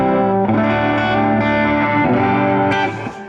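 A 1968 Hofner Verithin electric guitar rings out through overdrive, playing sustained distorted chords that shift a few times before trailing off, with no voices over it.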